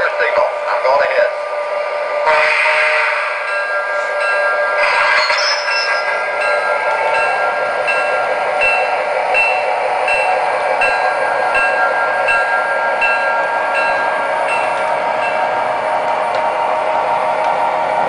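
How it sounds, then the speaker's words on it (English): A Seaboard train runs by on a North Carolina line, a loud, close, continuous rumble and clatter of rail cars with squealing metallic tones, steady throughout, with voices over radio chatter near the start. "Wanted to do just another short train run by."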